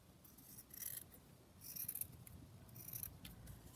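Scissors cut across a banner made from fabric scraps with three quick snips, close and quiet over a faint background.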